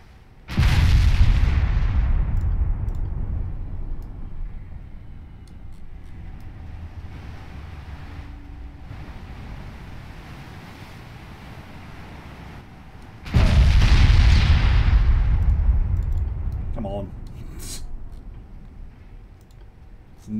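Naval ship guns firing in Ultimate Admiral Dreadnoughts during a target practice scenario: two heavy booming salvos, one at the start and one about two-thirds through, each rolling into a long rumble, with faint clicks between.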